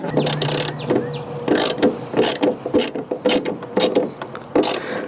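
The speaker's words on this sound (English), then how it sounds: "Now let's tighten everything up" Ratchet wrench tightening bolts while installing a swing-case tool box under a Ford F-150 truck, heard as bursts of quick close clicking strokes separated by short pauses, with faint metallic knocks in between.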